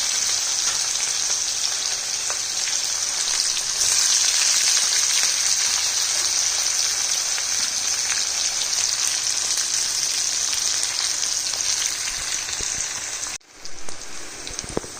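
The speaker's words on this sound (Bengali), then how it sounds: "পেঁয়াজটা যাতে চটপট সুন্দর ভাজা হয়ে যায়" Chopped onion frying in oil with crushed cardamom, a little cinnamon and asafoetida, a steady loud sizzle that holds evenly throughout and cuts out briefly near the end before resuming.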